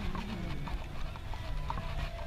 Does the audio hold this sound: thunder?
no